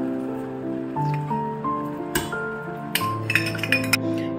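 Lentils and water stirred together in a cooking pot while making karamani keerai kootu, with soft wet squishing and a few sharp spoon clinks against the pot over steady background music.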